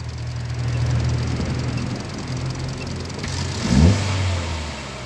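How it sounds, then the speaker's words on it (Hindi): A Kia Carens engine idles steadily with a brief rev rising and falling near the end, heard close in a workshop during diagnosis, with a faint background hum and no talking. "रेव दे बस"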